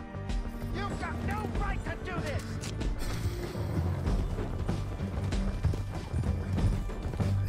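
Horse hooves clip-clopping at a gallop in Red Dead Redemption 2, a fast rhythmic drumming mixed with clattering and occasional whinny-like sounds, fairly close and continuous for several seconds, with a voice talking over it.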